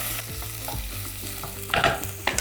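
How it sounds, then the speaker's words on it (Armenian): Meat stirred in a pot for an Armenian kchuch dish, a run of close scraping and clattering stir strokes with a soft sizzle beneath and a brighter scrape burst near the end. "Նախ խառնենք միսը։"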